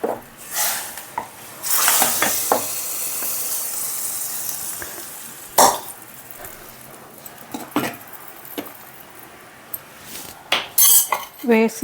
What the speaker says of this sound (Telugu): తాలింపు వేగినాక సాంబార్లో వేసేస్తున్నానండి.